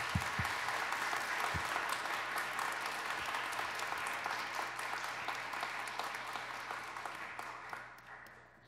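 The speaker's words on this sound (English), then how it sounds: "we'd like to give them a round of applause." A church congregation applauds during a Sunday service, with steady, fairly close clapping from many hands that carries on evenly before fading out at the end.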